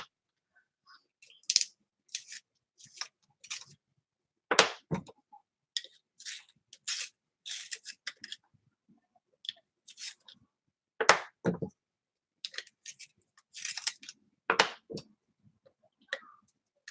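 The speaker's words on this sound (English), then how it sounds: "Let me get out my sharpener." A handheld sharpener works on a watercolor pencil in a series of short, dry scraping turns, close and quiet, broken by brief pauses throughout.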